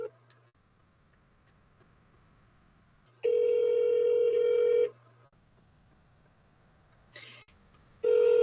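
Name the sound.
telephone dialing and ringing tone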